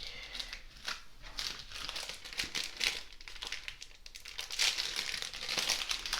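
A sealed plastic sticker package of youtuber merch is crinkled and worked open by hand. The crackling is continuous, close up and fairly soft, with no one talking.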